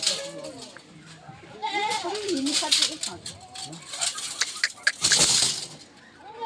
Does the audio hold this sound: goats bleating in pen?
yes